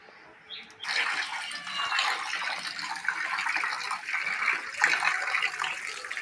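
Pieces of rupchanda fish are rinsed in water in a basin, with a steady close splashing and running-water rush that starts abruptly after a short quiet moment and continues throughout.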